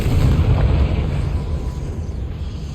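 A Confringo blasting spell explodes in a Hogwarts Legacy goblin mine, a loud, deep rumbling explosion that rolls on steadily and fades slightly.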